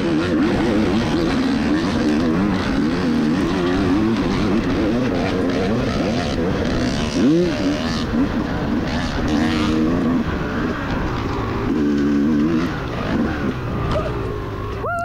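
A loud motocross dirt bike with an unpacked silencer racing at a cross-country event, its raspy exhaust snarling and rising and falling in pitch continuously over the full stretch.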